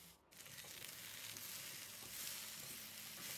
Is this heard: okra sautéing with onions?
yes